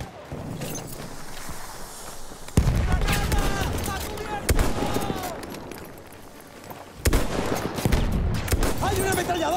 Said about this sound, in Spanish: ¡Hay una ametralladora!